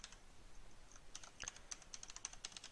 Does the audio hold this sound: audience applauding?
no